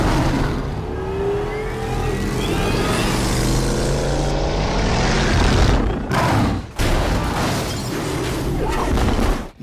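The Batmobile from a Batman film roars with a loud, sustained engine rev and accelerating rumble, joined by heavy booming and crashing impacts, with brief drops near the end.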